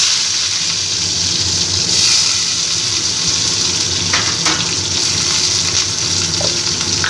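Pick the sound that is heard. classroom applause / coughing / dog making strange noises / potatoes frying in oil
potatoes frying in oil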